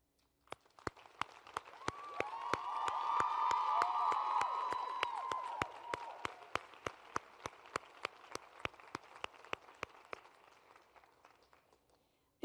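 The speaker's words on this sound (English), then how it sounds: "extending a heartfelt applause for all they do for our students" Applause builds and swells from a large crowd at a school commencement ceremony with a few cheers, sustained for several seconds before fading to scattered claps.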